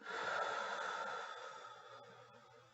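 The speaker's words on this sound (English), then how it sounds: "Exhale through your mouth." A single long, soft breath pushed out through the mouth during a guided breathing exercise, airy and close, fading gradually over a few seconds in a quiet room.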